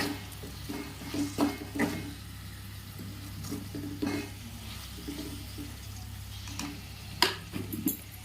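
Masala for aloo kurma frying in a pan, with a soft, steady sizzle under repeated scraping and stirring knocks of a spoon against the pan. No one speaks.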